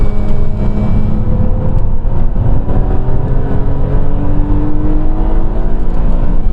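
A BMW Z3 M roadster engine revs loud and close in a steady, dense roar that holds high revs without a break. No voices are heard.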